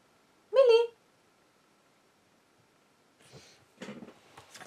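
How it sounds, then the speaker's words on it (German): A cat gives a single clear meow, tonal and fairly loud, followed by a long silence before some indistinct rustling and voice-like sounds. "Jetzt miaut die Katze die ganze Zeit."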